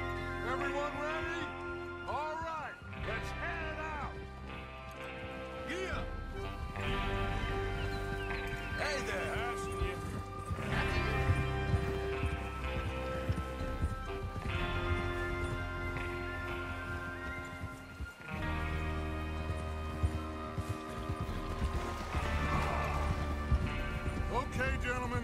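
Horses from Red Dead Redemption 2 clip-clop steadily over a full orchestral game score, their hoofbeats blended into the music with occasional whinnies.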